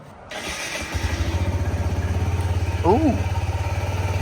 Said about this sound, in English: start it up, and put it on the rev limiter.